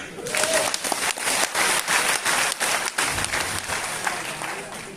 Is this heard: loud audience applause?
yes